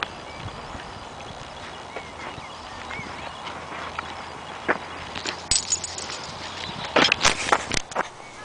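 Hooves of horses walking clip-clop steadily and close, growing louder and busier toward the end, with faint background noise and no talking.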